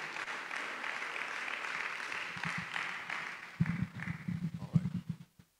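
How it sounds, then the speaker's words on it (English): Audience applause at an apostolic and prophetic church summit in Owerri, Nigeria, a moderate continuous patter of clapping. Voices and vocal sounds rise over it in the second half, and it stops abruptly at the end. "Clap for him as he comes, please"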